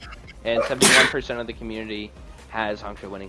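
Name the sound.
sneeze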